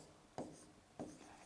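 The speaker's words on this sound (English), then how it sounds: "So let me write it down." Two brief, faint scratching strokes of a pen on paper, close by and otherwise quiet.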